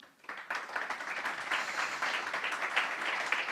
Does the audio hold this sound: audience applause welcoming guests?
yes